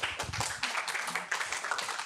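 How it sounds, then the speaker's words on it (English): Clapping from a school orientation audience of parents, students and teachers welcoming two grade 9 class presidents, a dense patter of many hands at moderate loudness filling the whole stretch without pause. "So please give them a round of applause."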